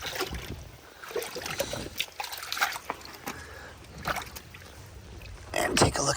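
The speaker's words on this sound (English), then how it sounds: "Let's go ahead and give this a little bit of a wash off." A clay-baked artifact is washed off with water, producing intermittent close splashes, sloshes and trickles in uneven bursts.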